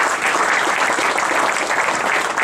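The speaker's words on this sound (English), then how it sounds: "let's give those guys a round of applause" A crowd at a golf outing claps together in a steady, close burst of applause that holds at an even level throughout.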